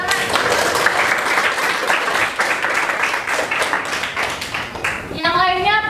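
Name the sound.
applause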